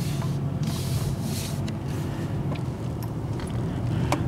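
Steady low road rumble and engine drone from inside a 2013 Honda Accord driving on local roads, continuous and fairly loud, with faint rustles and a few small ticks but no talking.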